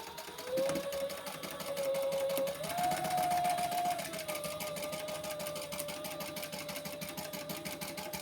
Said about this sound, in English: we're going to stitch across the top there on the lining